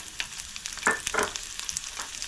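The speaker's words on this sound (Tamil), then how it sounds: "சின்ன வெங்காயம் போட்டிருக்கிறேன் இது தாளிக்கிறதுக்கு" Mustard seeds and shallots temper in oil, sizzling and crackling in a pan with a few sharp pops and light stirring clatter, close and moderately loud.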